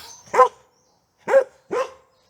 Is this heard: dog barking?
yes